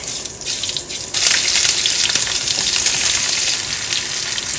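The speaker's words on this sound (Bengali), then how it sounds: "আমি দিয়ে দিব একটু জিরা ফোড়ন আলহামদুলিল্লাহ দিয়ে দিচ্ছি গোটা শুকনা মরিচ" Cumin seeds and whole dried chillies hit hot oil and burst into a loud, close, dense crackling sizzle that jumps up sharply after a second and stays steady.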